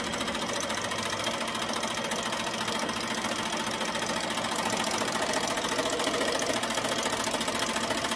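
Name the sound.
embroidery machine stitching out a name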